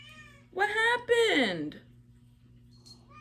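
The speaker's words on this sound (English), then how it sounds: "So that's my cat, by the way." A pet cat gives two drawn-out, whiny meows in quick succession, close and fairly loud, followed by a brief spoken question and a quiet room hum.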